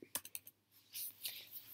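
Typing on a computer keyboard, a few quick sharp key clicks followed by softer scattered taps, close and quiet with faint breathy noise.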